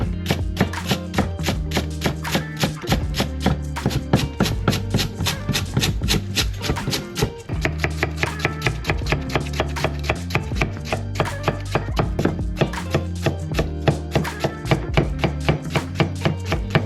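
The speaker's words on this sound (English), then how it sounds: "This is gonna call for some finely diced celery and onions." Celery and onions being finely diced on a cutting board for crab cake filling, rapid rhythmic knife chops in a fast steady run with one brief pause, close and crisp, no voices.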